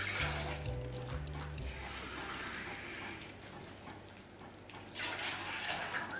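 Water pours into a cooking pot for boiling while rava kesari is prepared, a steady splashing flow that runs for several seconds, with a brief low hum near the start and no talk over it.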